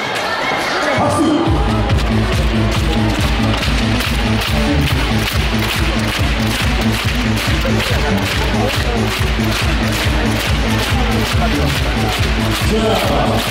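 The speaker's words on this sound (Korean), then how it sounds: "케이스타 V스타 팬 여러분들 응원의 박수를 부탁드리겠습니다." Volleyball fans at the KOVO 2023–2024 V-League All-Star game in Korea clap in a loud, steady rhythm and cheer nonstop, with music pulsing underneath.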